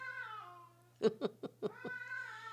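A cat meows with drawn-out, wavering cries, broken midway by a few short rapid calls, close and fairly quiet over a faint hum.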